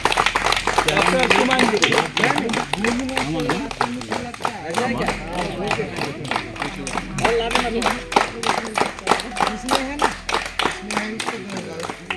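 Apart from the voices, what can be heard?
audience applause for Dr. Suman Sahu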